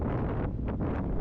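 Strong wind gusts roar steadily across a microphone at a ferry crossing where a river ferry is stopped, a continuous close, buffeting rumble with no voices.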